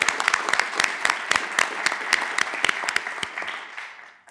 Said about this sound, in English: let's give a round of applause to both JC and Deontay